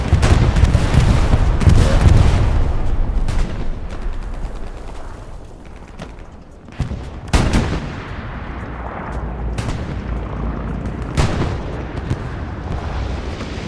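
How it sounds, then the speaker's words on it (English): A bombing run hits a battlefield in the video game Hell Let Loose, on the Driel map. Loud, deep explosions roll together into a continuous rumbling barrage, with several sharper blasts standing out as it eases. "GBI bombing run. Coming right at us."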